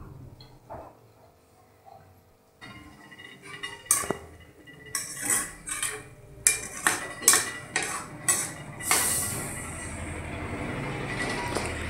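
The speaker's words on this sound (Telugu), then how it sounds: "గోంగూర చక్కగా శుభ్రంగా కడుక్కొని వేసుకొని కలుపుకోవాలి." A spoon clinks and scrapes against a pot while gongura leaves are stirred into fish curry, the metallic knocks coming in a rapid series of close, distinct hits after a quieter start, with no talk.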